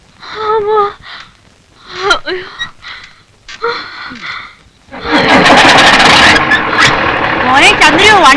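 A vehicle drives along, its engine and road noise rising loud and steady after voices and breathy sounds in the first half, with people talking over it.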